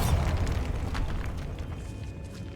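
A Bombarda spell blast in the video game Hogwarts Legacy booms out as a heavy explosive burst with a rumbling low tail that fades over a couple of seconds.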